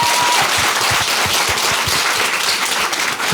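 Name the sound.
applause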